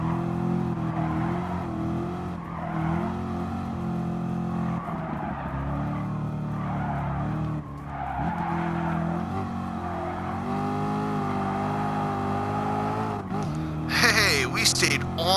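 A race car in the Gran Turismo video game drives and skids, its engine droning at a steady pitch with rising revs and a burst of tire squeal near the end, while a voice talks over it.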